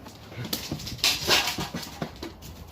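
A timid puppy whimpers nearby with several short, high whines and soft yips in an uneven sequence, set against a quiet indoor background.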